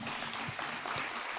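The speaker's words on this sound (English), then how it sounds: "Ladies and gentlemen, a big round of applause for Her Excellency." Audience applause after a launch speech at an official event in Uganda, a short steady patter of clapping from a crowd, moderately distant and fairly quiet.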